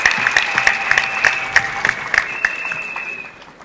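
An audience at a church thanksgiving celebration claps in a fairly even, rhythmic beat, sharp hand-claps close and clear, fading slightly toward the end, with no talking.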